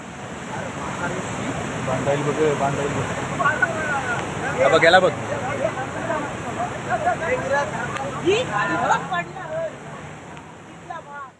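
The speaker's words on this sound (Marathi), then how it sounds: "पावसासोबतच समुद्रातही मोठ्या लाटा उसळत असून पाण्याला समुद्राला उधाण आलेलं आहे" Large sea waves surge and crash during heavy monsoon rain on the Maharashtra coast, a steady roaring wash with wind noise, swelling louder in places, while a voice speaks over it throughout.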